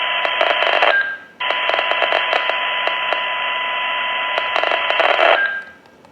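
Hytera HP605 handheld radio receiving an interference signal from a generator, a loud buzzing tone with a rapid ticking pattern that cuts out briefly, returns and runs on before dropping away.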